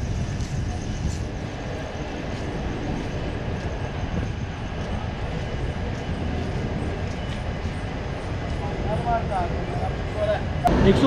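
A passenger train, the Tata–Jammu Tawi Express, rumbles along after leaving Muri station with steady low clatter and rolling noise, heard from inside a coach, with faint voices and a squeal near the end.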